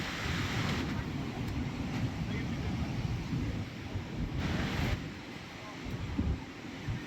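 The Alakananda river rushes near Mana village in Uttarakhand, a loud, steady roar of churning water mixed with wind buffeting the microphone, with no break across the whole stretch.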